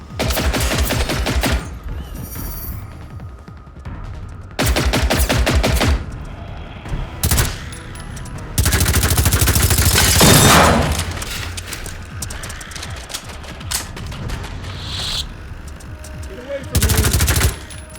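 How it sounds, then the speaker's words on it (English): Robot hunter opening fire in the video game Generation Zero: several loud, rapid bursts of automatic gunfire separated by quieter gaps, with one longer sustained volley in the middle, close and harsh. "Ooh, he's shooting at us. It's a hunter."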